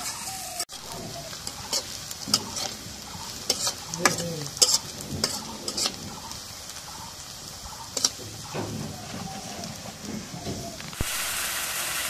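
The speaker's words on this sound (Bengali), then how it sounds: "পেঁয়াজটা দিই কড়াইয়ের মধ্যে।" Onions fry in hot oil in a wok, with a steady sizzle and hiss broken by repeated scraping stirs of a utensil against the pan, up close.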